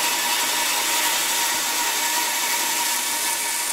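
A bandsaw slices through oak for a tenon joint on a traditional pole lathe, a dense, steady rasping whine filling the whole clip at close range with no pauses.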